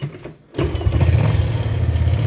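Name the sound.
motorcycle engine starting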